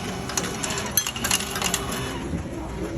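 Coins dropping into a vending machine in the US, a busy stretch of metallic clinks and jingles over a steady mechanical hum and broadband noise, fairly close.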